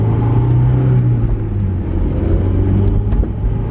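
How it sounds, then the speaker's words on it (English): A Honda S2000 on fresh Dunlop Direzza ZIII tires drives a lap, its engine a steady close rumble and whir from inside the car, with a slight shift in pitch partway through and no talking. "Going for my first lap here with the new tires"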